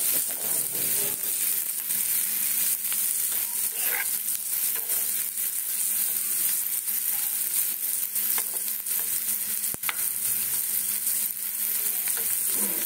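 Steady, dense sizzling of food frying in a hot pan runs throughout, with an occasional light clink and no talking.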